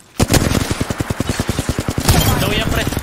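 Rapid bursts of gunfire ring out in Apex Legends, a quick string of sharp evenly spaced shots followed by a denser rumbling stretch, loud and close, over game background noise.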